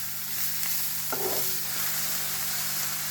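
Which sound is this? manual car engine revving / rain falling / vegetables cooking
vegetables cooking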